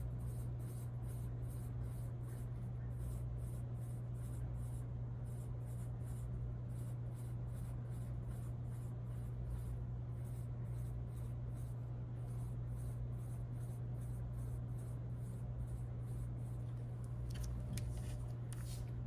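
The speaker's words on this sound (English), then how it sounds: "Inside all of these shapes, I'm going to draw circles for the seeds." A pen or pencil on paper draws small circles as seeds inside a pomegranate fruit slice sketch, a quiet, close scratching in short repeated strokes over a steady low hum.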